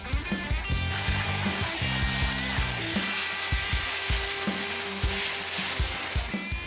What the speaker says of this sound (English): this Dustless blasting system has a 60-minute runtime, which means I don't have to stop as often to refill with media